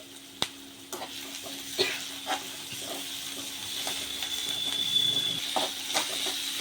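Ginger garlic paste sizzles and fries in a hot pan while a spoon stirs it, with soft scraping clicks over a steady close hiss.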